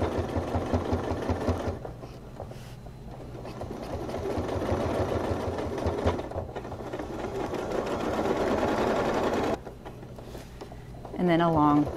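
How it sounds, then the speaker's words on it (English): A sewing machine quilts straight lines along a seam of a quilt top, humming steadily and close for the whole stretch while someone talks over it. "So now I'm gonna quilt along this seam"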